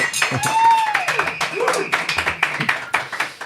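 A short burst of crowd applause plays as a sound effect on a talk show, quick rhythmic claps layered with voices and a brief rising whistle-like tone near the start.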